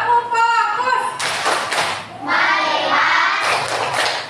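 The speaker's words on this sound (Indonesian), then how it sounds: "untuk fokus kita tepuk fokus dulu. Tepuk fokus" A grade 6 classroom of children performs a rhythmic group focus clap, bursts of hand claps mixed with chanted voices and talk.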